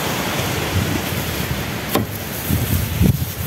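Steady, blustery wind at a beach roars against the microphone with low rumbling gusts and a washing surf-like background, no voices.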